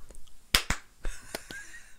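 About five sharp, close hand claps sound in an uneven rhythm, two strong ones then lighter ones, in a quiet room.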